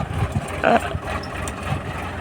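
A tractor engine runs in a field where groundnuts are being sown, a steady low mechanical rumble with a slight idling throb held at an even level throughout.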